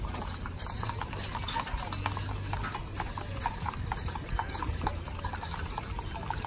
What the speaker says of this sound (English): That's a horse, isn't it?